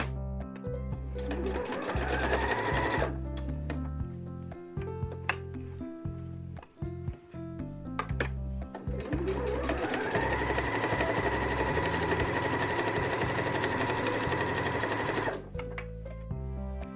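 A sewing machine quilting patchwork Christmas stocking pieces: two long runs of rapid, steady mechanical stitching, close and loud, separated by a pause of small clicks and handling noises, with no talk.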